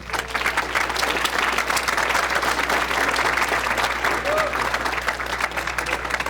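An audience at a lecture on the slide rule applauds the guest speaker, a dense, steady wash of clapping that runs evenly throughout at moderate distance.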